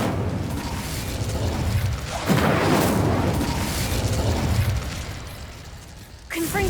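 Incendio fire spell cast in the video game Hogwarts Legacy, a loud whooshing burst of flame with rumbling booms, followed by a sharper pop near the end, while a voice speaks over it.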